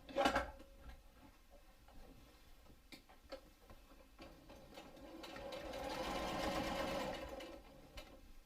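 A sewing machine stitches the layers of a fabric lunch bag, with scattered ticks and clicks, then a steady whirring run near the end, close but fairly faint, no talk.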